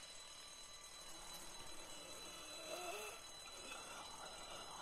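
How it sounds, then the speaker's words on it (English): An alarm rings in The Walking Dead video game, a steady electronic tone that holds at a moderate, even level for several seconds with no one talking over it. "Can you not just turn off the alarm?"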